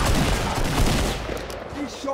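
Shotgun blasts and heavy gunfire crowd a Fortnite battle, loud and dense near the start, then thinning into scattered shots with faint game sounds.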